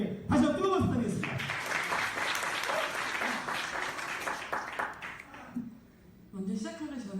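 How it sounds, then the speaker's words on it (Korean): An audience at a live event bursts into warm applause, a dense sustained clapping that rises after a voice speaks and fades out, with talking returning at the end. "다시 한번 뜨거운 박수 부탁드리겠습니다"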